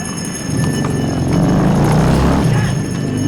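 Horse hooves clip-clop at an outdoor protest gathering outside Tate Modern in London, with a loud broadband crowd and street noise throughout and irregular hoof strikes standing out.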